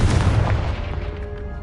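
A fiery explosive spell bursting in Hogwarts Legacy, a loud, dense boom with a heavy rumbling low end that lingers and slowly fades over about a second and a half, with no talking.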